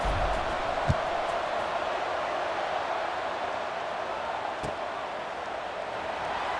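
Simulated stadium crowd at a college football game in the video game College Football 26, a steady, dense roar of many voices that holds at a constant level throughout with no distinct cheers.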